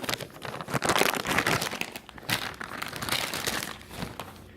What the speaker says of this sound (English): There's a little Ziploc bag here. Let's see what we have inside here.